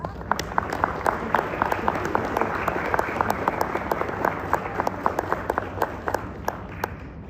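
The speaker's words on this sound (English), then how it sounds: "Let's give them a round of applause." An audience claps at a sixth grade promotion ceremony, steady crowd applause with distinct close individual claps standing out and faint murmuring underneath.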